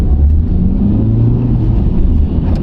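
A Honda FL5 Type R pulls away from a standstill among other cars, its engine a loud, steady, low rumble that holds throughout with no speech over it.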